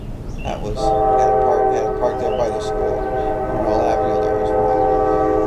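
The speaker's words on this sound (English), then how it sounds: "There goes another train." A train passes with a loud, sustained multi-tone horn blaring over rumbling rail noise, while people talk over it.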